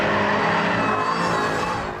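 A car engine revs hard and continuously while drifting, a loud, close, sustained roar without pause.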